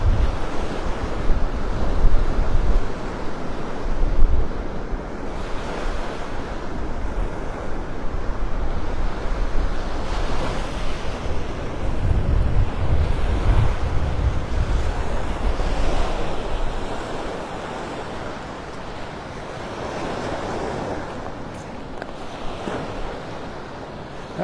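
Ocean surf rolling onto the shore at Vanderbilt Beach in North Naples, Florida, steady and loud, with gusting wind buffeting the microphone throughout and no talking.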